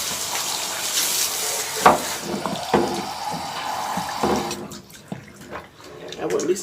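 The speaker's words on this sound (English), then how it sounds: "I use a raised tub to wash these pups" Water runs steadily from a tap into a raised tub while a dog is bathed at home, a continuous close rushing with a few splashes and drips, which fades out near the end.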